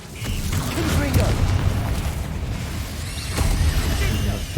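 A Confringo blasting spell in a Harry Potter video game goes off as loud, rumbling booms with a brief crackling burst. Game effects and a voice sit under them, and a second blast rises near the end.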